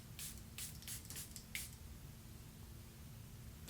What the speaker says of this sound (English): let's hope that the tiny sample travel size spritzer is a good spritzer